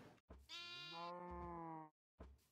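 A Minecraft sheep gives one long, clear bleat in the game, close and alone, with short bits of sound on either side.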